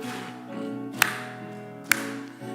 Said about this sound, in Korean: 우리 박수 치면서 한번 찬양합시다.